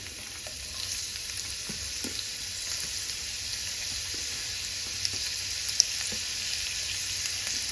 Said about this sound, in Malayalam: ഓയിലൊന്ന് ചൂടായി വരുമ്പോൾ നമ്മൾ അരിഞ്ഞു വെച്ചിട്ടുള്ള സവാള അതിലിട്ട് കൊടുക്കുന്നുണ്ട്